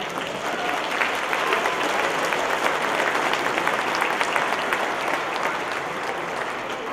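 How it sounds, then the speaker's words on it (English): Sustained, dense applause from an audience at a Spanish immersion elementary school vocal concert, a steady wash of many hands clapping for the teacher, loud and even throughout with no talk over it. "Please give her a round of applause."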